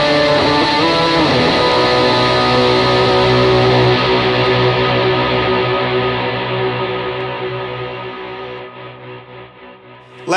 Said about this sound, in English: An ambient fuzz.